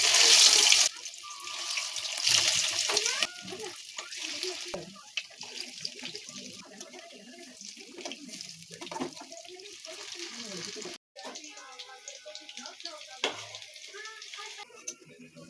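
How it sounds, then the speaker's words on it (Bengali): Shrimp pakoras frying in hot mustard oil in a kadai give a steady, loud bubbling sizzle that fills the whole stretch, with brief clatter and watery splashes along the way and no talking. "তেল গরম হয়ে যাওয়ার পর একে একে আমি চিংড়ির পকোড়াগুলো তেলেতে ছেড়ে দিলাম"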